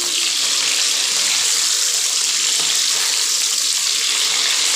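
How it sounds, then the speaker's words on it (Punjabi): Cauliflower fries in a pan, cooking toward a light brown, with a loud, steady hissing sizzle that continues unbroken and with no voices. "ਫਰਾਈ ਕਰ ਲੈਣੇ ਆ ਗੋਭੀ ਨੂੰ"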